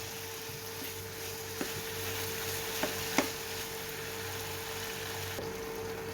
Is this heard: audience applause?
no